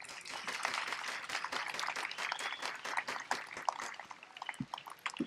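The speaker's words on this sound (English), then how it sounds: "Please give them a loud round of applause" A commencement audience at a university graduation ceremony applauds the guests, a dense sustained round of clapping from a large crowd that thins toward the end.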